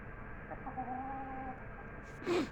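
Hens cluck softly and intermittently in a steady outdoor hum, with a louder, sharper squawk rising near the end.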